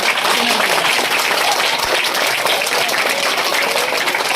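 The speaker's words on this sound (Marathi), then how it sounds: "त्यांचं सगळ्यांनी जोरदार टाळ्या वाजून पाहिजे" A school audience gives a steady burst of loud applause for a seventh-grade student just elected in a school election, the clapping dense and continuous throughout with no voices over it.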